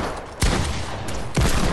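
Two booming shotgun blasts fired back to back in a video game, about a second apart, loud and close over a steady background of game noise.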